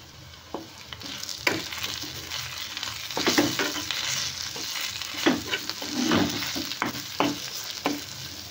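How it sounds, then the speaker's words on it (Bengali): Chili, turmeric and coriander powder masala with ginger-garlic paste frying and being stirred in a pan, a steady close sizzle broken by repeated scraping stirs, with no talk. "মশলাটা কষানো হয়ে গেছে"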